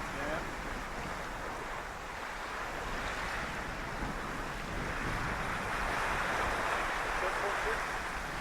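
Sailboat creaming along through waves on the Solent, a steady broad rush of water and wind noise continuing throughout with no break.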